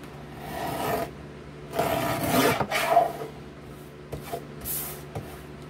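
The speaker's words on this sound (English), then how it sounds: "Guillotine cutter, bro." Sharp guillotine cutter trimming sheets of homemade stickers, with a few close, brief scraping slices and rustling paper shifts separated by quiet pauses.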